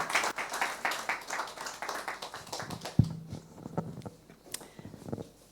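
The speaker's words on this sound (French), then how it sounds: "On peut applaudir Laurent qui va nous partager son expérience." A congregation applauds a speaker at a church national service for Holy Day: a dense patter of many hands clapping, fairly close, that thins out and fades after a few seconds, leaving scattered claps and room noise.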